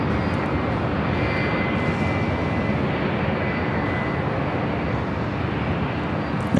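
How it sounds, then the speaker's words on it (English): A seven-year-old Hawaiian Airlines Airbus A321neo bound for Kona roars steadily at LAX airport, its jet engines a loud, broad, continuous rush that holds for several seconds with no one talking. "This flight heading to Kona, Hawaiian Airlines Flight 61, a 7-year-old A321 Neo"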